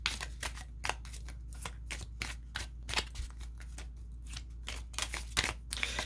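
Tarot cards are shuffled in quick, papery riffles and taps, a dense run of sharp flicks repeating steadily at close range over a low steady hum, with no voices.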